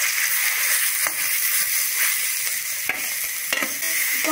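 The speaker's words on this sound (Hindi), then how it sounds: "घिसी हुई लौकी को 1 से 2 मिनट तक इस तरह चलाते हुए घी में भून लेंगे" Grated bottle gourd stirred and fried in hot ghee in a kadhai makes a constant close hiss, punctuated by occasional scraping stirs of the spoon.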